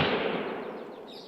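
A single sharp rifle-like gunshot from the hunting game theHunter: Call of the Wild, loud at onset with a long, fading echoing tail across open terrain, no talk.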